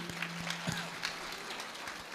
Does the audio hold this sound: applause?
yes